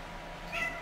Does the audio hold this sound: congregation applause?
no